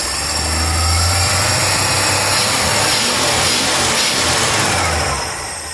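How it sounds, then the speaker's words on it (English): A loud 1974 Ford E100 van engine, due for a rebuild, revs up and holds a strained, roaring rpm for several seconds before easing off, close by with no talking. "let's see if it'll rev up"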